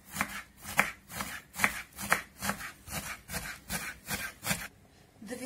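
A knife chops fresh cilantro, parsley and green onion for a meat solyanka, about ten crisp, evenly spaced strikes in a steady rhythm, close and clear with no talking, then a brief pause before one more chop.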